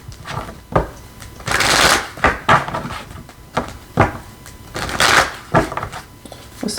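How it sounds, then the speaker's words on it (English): Tarot cards are shuffled by hand in repeated bursts of papery riffling and soft slaps, close and fairly loud, with no speech. "Let me shuffle."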